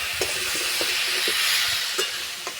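Raw pumpkin pieces frying in a pan, giving a steady soft sizzle with a few light stirring knocks and scrapes spaced through the clip, close and moderately loud with no talking.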